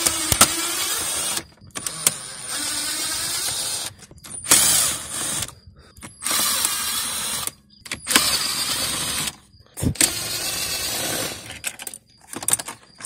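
A power tool removes 8 mm bolts from a car's center console. Bursts of whirring and ratcheting run for a second or two each, separated by short silences, close and fairly loud with occasional clicks.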